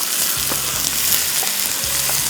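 Large chicken pieces fry in hot oil, a dense, close sizzle with soft stirring knocks over a short stretch, no voices.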